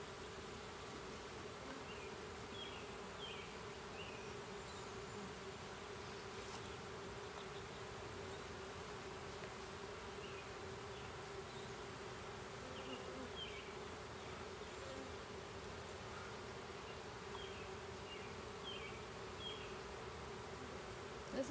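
Honeybees hum steadily around an opened swarm hive during an afternoon inspection, a continuous soft drone with individual bees buzzing past now and then.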